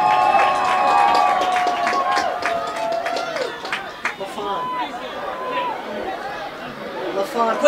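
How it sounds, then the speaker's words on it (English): Crowd at a Sonoma County Soccer match against Portland, a steady wash of stadium chatter and scattered clapping and cheering, with an announcer talking over it throughout. "Big round of applause for Sonoma County Soccer."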